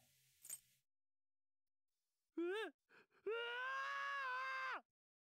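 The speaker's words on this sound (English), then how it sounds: "That's just a scream." A voice in Persona 5 Royal lets out a brief rising cry, then a longer sustained high-pitched scream that holds steady and cuts off, with near-silence between.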